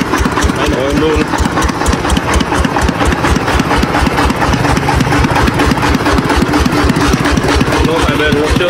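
A truck with a 24 Tiger engine idles close by, a steady rumbling chug with a rapid even pulse that holds throughout, while a voice talks over it.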